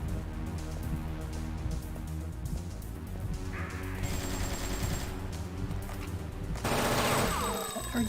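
Rapid bursts of gunfire from a PS1 video game as the character runs, steady repeated shots that grow denser and louder toward the end, with no talking.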